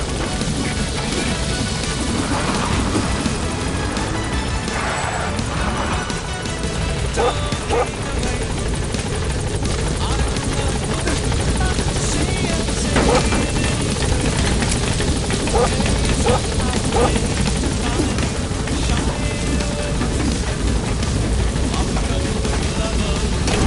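Pequod, the transport helicopter in Metal Gear Solid V, roars with steady rotor wash throughout as it hovers to land and lifts off again, with radio voices speaking over the constant loud drone.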